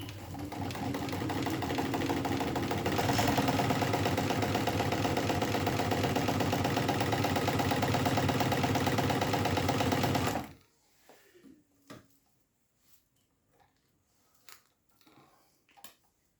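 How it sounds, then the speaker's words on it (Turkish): A Singer 298 sewing machine runs a straight stitch, a loud, steady, fast mechanical whir lasting about ten seconds before it stops abruptly, followed by a few faint clicks and handling sounds. "Şu an düz dikiş yapacağız."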